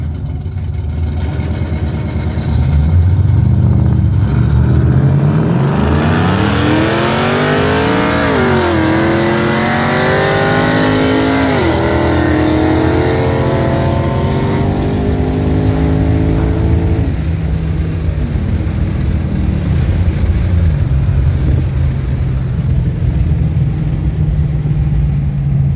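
A heavily cammed Chevrolet Caprice V8 with a choppy, lopey idle climbs into loud, repeated revs that rise and fall over about ten seconds, then settles back to a rough, loping idle, with no talk over it.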